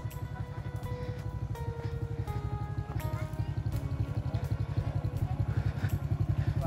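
A single-cylinder farm tractor engine chugs in a fast, steady thump close by, with rattling clatter over it and no talking.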